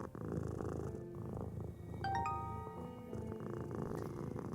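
Purring of a cat in the puzzle game A Little To The Left, a soft continuous rumble under game music with bright chime-like notes, fairly faint, and no voices.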